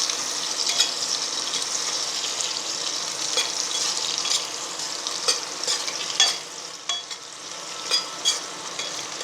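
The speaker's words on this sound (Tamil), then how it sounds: "இது நல்லா கொஞ்சம் கோல்டன் கலர் வர்றது வரையிலும் கொஞ்சம் நேரம் ஃப்ரை பண்ணிக்கிட்டே இருங்க" Sliced onions fry in a pan for plain kuska biryani, a steady close sizzle with bright crackling, overlaid by scraping stirs and occasional sharper clinks toward the end.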